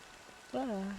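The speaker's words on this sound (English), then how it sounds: "It's still raining." A steady, soft hiss of rain falls throughout a scene in the video game Honkai Star Rail, and a brief voiced tone sounds over it near the end.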